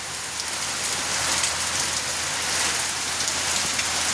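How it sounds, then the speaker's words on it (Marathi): Heavy rain falling continuously nearby at 5:30 in the morning, a thick, even roar of drops pattering on surfaces throughout. "सकाळच्या साडेपाच वाजता जोरात पाऊस चालू आहे"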